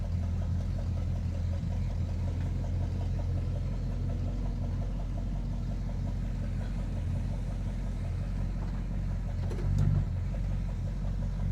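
Dodge Charger engine idling with a lifter tick, a steady low rumble at a moderate distance that holds evenly throughout, with a brief louder swell near the end and no voices.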